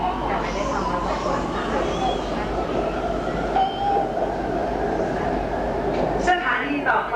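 Inside a BTS SkyTrain carriage in Bangkok, Thailand, a steady rumble of wheels and motors runs throughout, with a voice speaking over the train noise.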